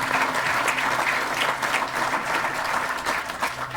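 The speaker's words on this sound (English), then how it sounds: "So, one round of applause for Haley for being with us today" Audience applause at a Fourth of July ceremony commemorating the Battle of Wyoming, a steady, dense clapping from a crowd that holds at an even level from start to finish.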